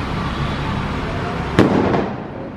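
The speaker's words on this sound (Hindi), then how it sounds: "यहाँ पे पटाखे फूट रहे हैं" Firecrackers burst outdoors: one sharp, loud crack stands out against a steady background rumble, with a fainter pop just after it.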